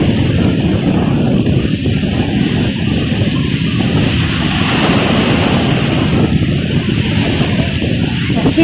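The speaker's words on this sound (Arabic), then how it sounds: "اكيد واضح لكم ان البحر عالي من الصوت بس" Rough, high sea surging and breaking against the shore at Marsa Matruh, Egypt, a steady loud roar of surf mixed with strong wind buffeting the microphone throughout.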